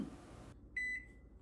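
A microwave gives a short electronic beep, then a longer one, after a brief rustle and quiet hum.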